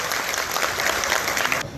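Audience applause at a formal event on digital innovation in the judiciary, a steady dense clapping that carries on evenly for nearly two seconds before dropping off sharply near the end.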